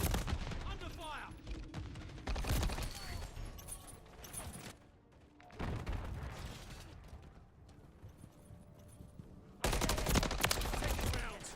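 Gunfire in the Call of Duty Modern Warfare 3 video game crackles in dense automatic bursts with short lulls between them, and in-game voices speak over it.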